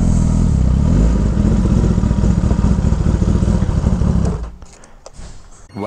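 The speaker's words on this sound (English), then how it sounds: "Let's actually pull the bike in." A motorcycle engine idles and rumbles loudly up close as the bike is pulled into a shop, then shuts off, leaving faint clatter and rustling.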